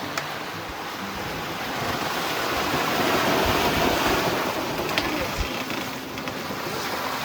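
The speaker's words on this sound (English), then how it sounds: "We have 20 to 28 knots wind and 8 to 10 foot seas." Strong 20 to 28 knot wind and 8 to 10 foot seas roar steadily around a sailboat offshore near Cape Hatteras, with broadband wind rush on the microphone and surging waves swelling midway, no voices.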